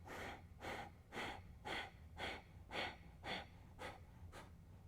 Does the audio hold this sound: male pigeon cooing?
no